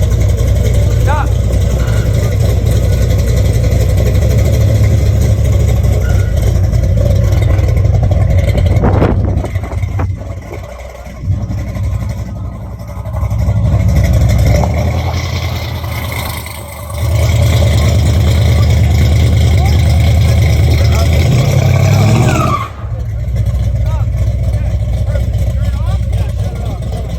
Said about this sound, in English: Trailer burnout, baby!